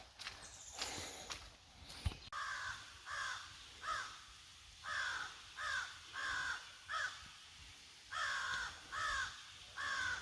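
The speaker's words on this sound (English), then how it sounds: "I don't speak crow, but I think someone is pissed." Repeated harsh caws from crows, a steady series of calls with short pauses between them, fairly close and loud against a quiet outdoor background.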